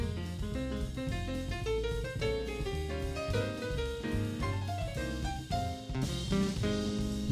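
A jazz band plays a tune, with busy melodic lines over bass and drums, heard at moderate level as a continuous full ensemble passage without any talking.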